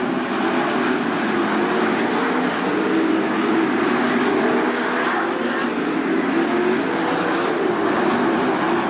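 A field of 410 sprint cars at Attica Raceway Park, racing in A-Main traffic, keeps up a dense, unbroken engine roar at high volume throughout, with faint commentary blended underneath.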